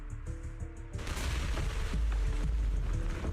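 Dense, rumbling bursts of video game gunfire and explosions erupt after a quieter opening, continuing loudly and steadily throughout.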